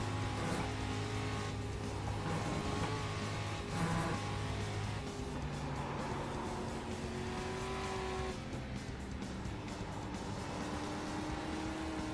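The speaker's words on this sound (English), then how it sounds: "Faster car coming up quick." Race cars in the iRacing sim on a road-league track, engine note droning steadily with a faster car closing in and passing, loud and continuous with faint tire squeal throughout.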